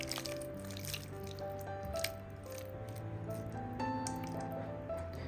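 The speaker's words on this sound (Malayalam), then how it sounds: "ഒന്നുകൂടി ഒന്ന് മിക്സ് ചെയ്യാം." Marinated chicken pieces coated in masala are mixed by hand in a bowl, giving a run of wet squishing and sticky smacking sounds, close and steady with no talking.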